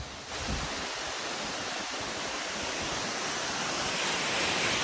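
A waterfall in a rural hometown village pours as a loud, continuous, broadband rushing roar, steady and close for the whole stretch, with no voices over it.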